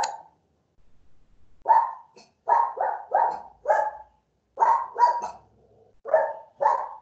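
A dog barks repeatedly in short, loud bursts close by, about ten barks in an irregular rhythm with brief pauses between them.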